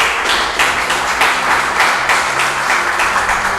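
A church congregation breaks into sustained applause, a dense, loud wash of clapping that holds steady for several seconds without speech.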